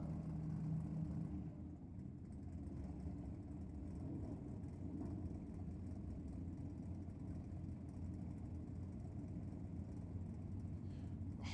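The turbocharged Big Red drag car sits in the fire-up box at Sydney Dragway, its engine holding a steady low rumble that slightly dips early on and otherwise stays even and moderately loud throughout.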